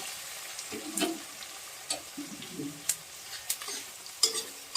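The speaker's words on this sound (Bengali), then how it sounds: "পেঁয়াজটা আমি ভেজে নিচ্ছি" Chopped onion frying in a pan makes a soft, close sizzle broken by several sharp spatula scrapes and light clinks against the metal.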